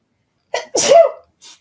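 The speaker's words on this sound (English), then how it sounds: "Oh, I feel a sneeze." A single sharp sneeze, a quick inhale snapping into a loud burst, followed by a soft breath afterward.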